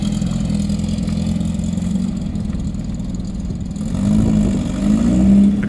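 A 1974 VW Beetle with a tweaked air-cooled engine pulls away, its motor droning steadily then rising in a revving surge near the end, close and loud with no talk.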